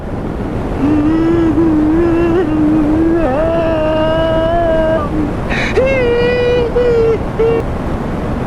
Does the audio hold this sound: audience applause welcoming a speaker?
no